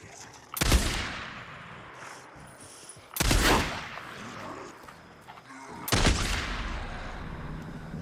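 Three heavy sniper rifle shots from the BFG in the video game Days Gone, fired roughly every two and a half to three seconds, each a loud sharp boom with a long rolling echo tail.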